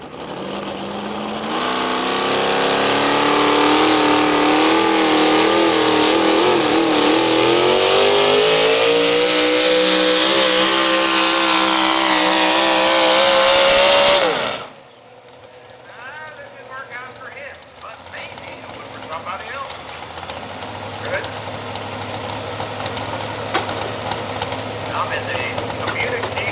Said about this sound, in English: Tom Kotopatsky running the Ford machine.